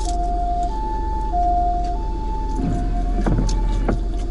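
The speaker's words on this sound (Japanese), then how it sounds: "あ、救急車。" An ambulance siren wails in a steady two-tone alternation over the low rumble of a car interior at a McDonald's drive-through in Sendai, fairly faint and distant, with a few soft clicks.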